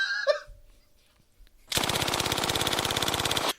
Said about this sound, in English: Here's a Thompson gun.